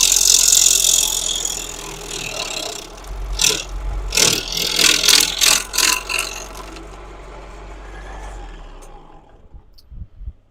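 A wood lathe turning a piece of wood at under 1200 RPM. Harsh scraping bursts of cutting come in several pulses, then the machine hums on and winds down into near silence.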